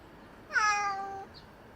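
A single clear, close meow from one of two older cats, around ten years old, rising then gently falling over about a second in an otherwise quiet room.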